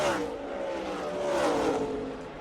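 NASCAR Sprint Cup race cars roar around Auto Club Speedway during the 2010 Auto Club 500, a continuous high engine drone with a slowly shifting pitch as the pack passes, loud and sustained.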